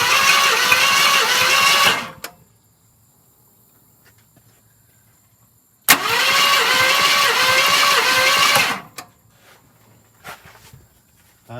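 An abandoned 1974 Ford F250 V8 engine being cranked over in two long bursts, each about three seconds, with a steady rhythmic churning close by and quiet gaps between.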